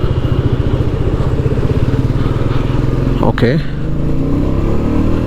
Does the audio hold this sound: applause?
no